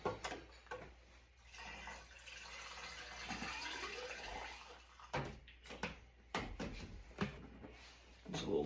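Coolant is poured into a car's coolant reservoir during an oil change, making a quiet gurgling trickle of liquid broken by pauses and small plastic handling knocks.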